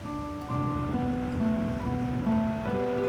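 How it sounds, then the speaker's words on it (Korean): Sea waves wash steadily against the shore of Crete, a continuous surf rush heard under sustained musical tones. "에게해를 건너온 파도가 지중해에서 불어온 바람과 만나는 곳"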